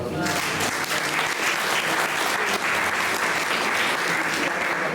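Steady audience applause at a Sardinian poetry contest, dense and even clapping from a sizable crowd sustained for the full five seconds with no pauses.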